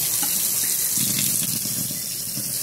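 Tap water runs steadily from a faucet fitted with a plastic switch on a Kangen water machine setup, a continuous close hiss and splash with no talking.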